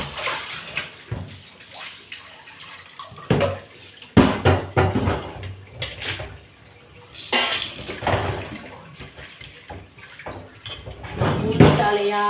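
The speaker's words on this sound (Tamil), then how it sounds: "சாலை மீனை கழுவிக்கிட்டேன்" Salai sardines are washed by hand in water, with splashing, sloshing and pouring in irregular bursts and occasional clinks of a vessel. The sound is close, with stretches of quieter dripping between.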